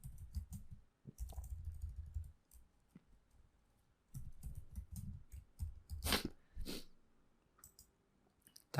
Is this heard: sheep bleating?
no